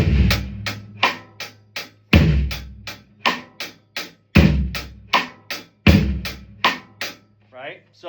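A drum kit plays a groove with hi-hat triplets and bass and snare shifted to suggest a new tempo: punchy kick and snare hits recur in a repeating pattern with lighter strokes between, close and loud.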